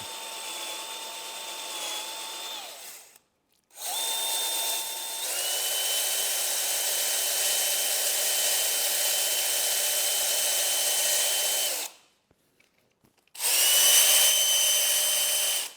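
A DeWalt DCD996 cordless drill whines steadily in long bursts into wood on its slow first speed setting, stopping twice with short pauses, its pitch shifting slightly as it bites into material.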